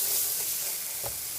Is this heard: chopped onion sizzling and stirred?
yes